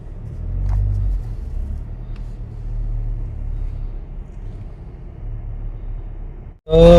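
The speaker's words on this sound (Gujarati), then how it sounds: "હું ગાડી સાઈડમાં કરું" A car pulling over to the roadside, a steady low engine rumble close by with faint tyre and road noise, ending in a brief drop and then a short voice.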